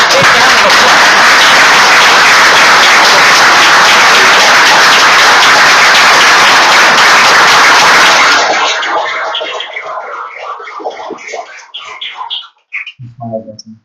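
Applause at a city council meeting, loud dense clapping from a room full of people that holds steady for about eight seconds, then thins out into scattered claps and fades toward the end.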